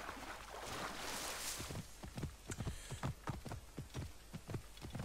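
A horse gallops in Assassin's Creed Origins, its hooves beating a rapid, even clip-clop rhythm that starts after a brief windy rush and continues close and clear with no talking.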